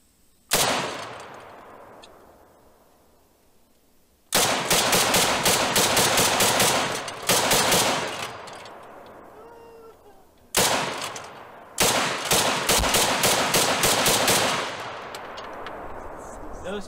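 Semi-automatic belt-fed civilian PKM rifle firing 7.62x54R outdoors: a single loud shot with a long decaying echo, then strings of fast repeated shots in several bursts separated by brief pauses, each ringing out afterward.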